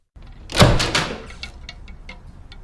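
A bathroom door being opened: a handle clicks and the door swings with a loud thunking rush, followed by several short, fainter squeaks and creaks as it settles.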